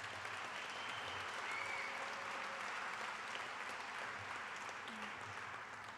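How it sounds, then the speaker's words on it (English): Sustained applause from a graduation crowd for HVAC graduates of a technical school, a dense, even wash of many hands clapping, fairly distant, with faint voices mixed in. "If I can have a round of applause for all of our HVAC grads."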